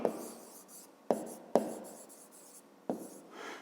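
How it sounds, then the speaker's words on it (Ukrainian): A pen writes by hand on paper while a fifth-grade maths exercise is worked out, giving soft scratchy strokes with four sharper taps as the pen comes down, close and quiet, with no talking. "Записуємо тоді"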